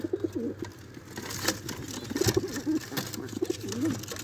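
A pair of Teddy pigeons with their young gives repeated throaty coos, rising and falling in short bursts close by, over a faint steady hum.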